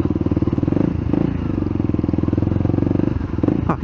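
A car engine runs roughly after being filled with the wrong fuel, diesel in a petrol engine or petrol in a diesel. It idles with a loud, close, uneven chugging pulse that clatters steadily throughout.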